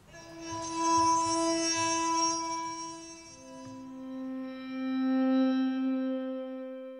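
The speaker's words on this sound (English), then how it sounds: "Wine Glasses from the Sidney Opera House, recorded with various microphones." A wine glass sample instrument recorded through a Townsend L22 stereo microphone plays soft, sustained glassy tones with a shimmering overtone, first one pitch and then a lower note that swells and rings on.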